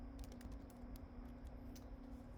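Keystrokes on a computer keyboard while entering text into a data-entry form, a quick irregular run of soft clicks over a steady low electrical hum.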